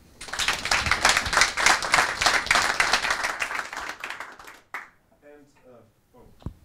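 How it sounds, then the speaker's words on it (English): An audience at a blockchain and AI meetup in Amsterdam bursts into dense, lively clapping that lasts about four seconds, then fades to scattered claps, with voices murmuring in the quieter stretch afterward. "You can give yourself a round of applause"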